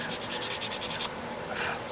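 Hand sanding of an 1880s violin neck with abrasive pressed under a fingertip, a close, rapid back-and-forth rasp with quick rhythmic strokes, alone.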